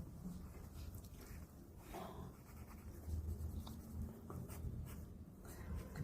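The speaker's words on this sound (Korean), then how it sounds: "한 나무를 예를 들어서 한번 그려볼게요" Pencil scratching on paper while sketching a tree, a steady soft scraping texture of strokes that runs continuously under a low room hum, with no talk.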